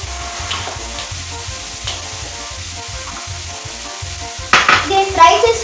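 Spring onions frying and stirred in a pan for street-style dosa, a steady close sizzle under clinks and scrapes of a utensil against the pan, with a louder burst of clatter near the end.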